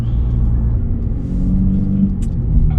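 Road traffic rumbles around a 2019 Lexus IS300 F-Sport, a steady low engine and road drone with a faint high tick near the end.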